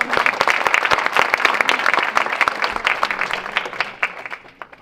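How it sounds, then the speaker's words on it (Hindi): An audience at a Hindi poetry recital claps after a poem, a dense burst of many hands that holds steady and then thins out and fades toward the end. "ताली बजा दीजिए इस बात पर भी।"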